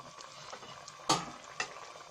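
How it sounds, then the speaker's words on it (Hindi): Quiet bubbling of water boiling in a pot of white lobia (black-eyed pea) curry, with a couple of soft clinks from a utensil against the pan. "अब हमारा पानी का बॉयल आ चुका है।"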